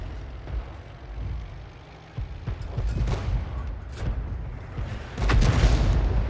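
The 105 leFH18B2 artillery gun booms in a tank video game, with heavy low rumbling blasts and battle noise rolling through the scene, loud and continuous with a stronger burst near the end.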